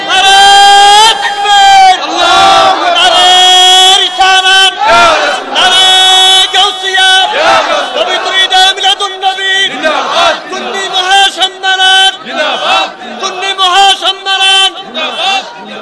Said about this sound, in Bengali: দুই হাত তুলে স্লোগান লাগান ইনশাআল্লাহ